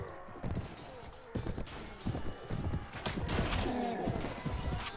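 Horse hooves and neighing in Mount and Blade: A Clash of Kings during a battle with wildlings, with clattering hoofbeats and thuds in an irregular rhythm and rising battle noise behind them, close and busy.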